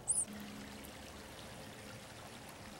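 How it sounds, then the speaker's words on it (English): Creek water near the Jeremiah Morrow Bridge bike trail in Oregonia, Ohio, flowing in a soft, steady faint rush, with a brief high chirp at the start. "There's a creek."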